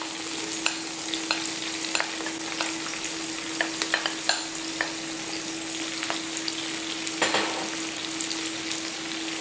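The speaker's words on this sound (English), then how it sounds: "we're going to go ahead and saute those onions down until they get nice and caramelized" Diced onions sauté in bacon fat in a cast iron pan, a steady close sizzle with scattered pops and crackles and an occasional stir, alone with no talk.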